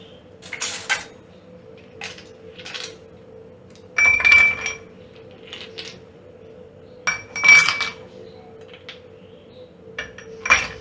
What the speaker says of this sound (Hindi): ग्लास में हम बर्फ़ की क्यूब्स डालेंगे।